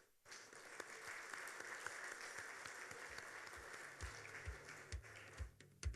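An awards ceremony audience applauds, a steady wash of many hands clapping heard from a distance, faint, with a few louder claps and thumps near the end.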